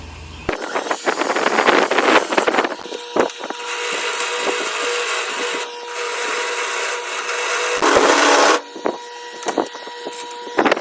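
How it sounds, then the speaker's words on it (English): A power drill whines steadily while boring holes through a steel truck frame, with loud sustained grinding stretches broken by brief pauses, clicks and clattering, close up. "if my drill bits will last for drilling all these holes."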